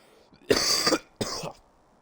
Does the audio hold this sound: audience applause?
no